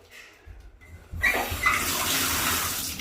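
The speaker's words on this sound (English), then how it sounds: "Looks like the water's going down." Water rushing and gurgling as it drains in a bathroom of a dirty abandoned house, starting abruptly after a quiet moment and continuing steadily and fairly close.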